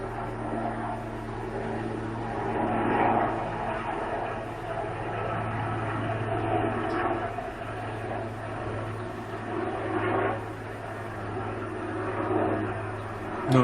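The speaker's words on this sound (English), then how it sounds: "It's a firefighting plane." A firefighting plane flies overhead as a steady, broad engine drone, rising and falling gently and fairly distant, with no voices.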